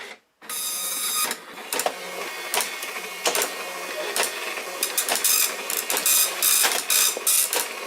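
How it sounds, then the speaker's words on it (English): A Flashforge Creator Pro 2 3D printer runs steadily and loudly, its fans whirring under rapid, irregular stepper-motor chirps and buzzes with clicking jolts, close and alone. "This thing is making a whole lot of robotic computer noises."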